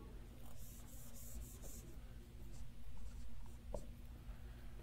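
Chalk or marker scratches across a board as math is written during a polytopes lecture, a run of short strokes and taps in a quiet room.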